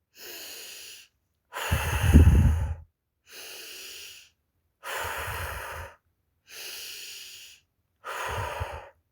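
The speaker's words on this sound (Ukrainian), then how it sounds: "Давайте зробимо вдих через ніс і сильний видих через рот" Children breathe in through the nose and blow out hard through the mouth in a group breathing exercise, six rhythmic breath sounds separated by short silences, some forceful exhales stronger than others.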